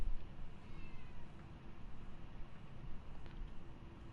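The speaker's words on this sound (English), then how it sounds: "forgive the meowing cat" A house cat meows softly several times, faint and somewhat distant against a low steady background hum, with no talking.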